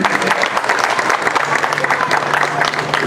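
A gendarmerie ceremony audience at Grand-Bassam bursts into loud, sustained applause with scattered cheers, filling the room close and dense throughout.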